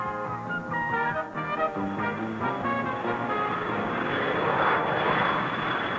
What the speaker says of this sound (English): pilots routinely bring their aircraft in for landings day or night in any kind of weather